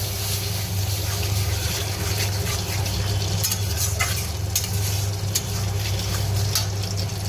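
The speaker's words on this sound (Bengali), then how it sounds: "এবার সর্ষে বাটা দিয়ে দিলাম, দিয়ে মশলাটা ভালো করে কষবো।" Mustard paste with chilli and turmeric powder frying in hot oil, a dense continuous sizzle with soft scraping strokes of a spatula stirring the spices through the pan.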